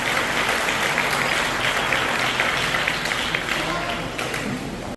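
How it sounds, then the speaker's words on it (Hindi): A congregation at a Hindi-language sermon on spirituality breaks into loud, sustained applause, a thick wash of clapping that fills the whole stretch and eases only slightly near the end. "जोरदार तालियां।"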